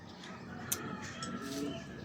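Racing pigeons coo softly in a loft after training flights, faint low murmuring calls with a brief sharper chirp, set against quiet background noise.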